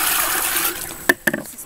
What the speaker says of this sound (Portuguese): agora a gente vai lavar o açaí aqui pra pôr ele de molho